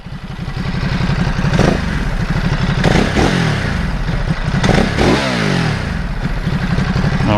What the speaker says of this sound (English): we'll let you hear the exhaust, what it sounds like stock.